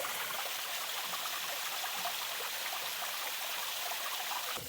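Water drains from a DIY hydroseeder tank in a steady, hissing, trickling rush that runs continuously at a moderate level, with no voices over it.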